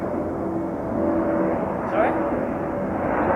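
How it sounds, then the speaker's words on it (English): A fixed-wing airplane passes overhead, its steady engine roar filling the background under continuous talk and music, swelling slightly around the middle. "And pause for the plane. The third plane."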